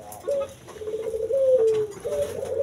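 A spotted dove and a pigeon kept in a breeding aviary coo close by, in several drawn-out, wavering calls that follow one another with no talking.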